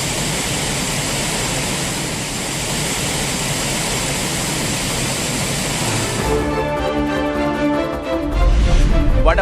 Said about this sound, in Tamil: மழை காரணமாக குற்றால அருவிகளில் மீண்டும் நீர்வரத்து அதிகரிப்பு.